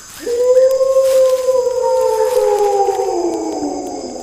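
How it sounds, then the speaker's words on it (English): A wolf howls once, close and loud, in a long sustained tone that starts with a sharp rise, holds steady and slowly sinks and fades toward the end. "a wolf howled at the moon."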